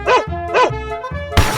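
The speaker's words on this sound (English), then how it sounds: "Dog." A dog lets out three short, loud, yipping barks in a steady rhythm, close and clear, and a brief noisy burst ends the run.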